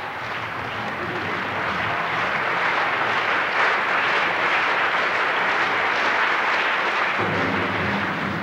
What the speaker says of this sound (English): they were greeted by rapturous applause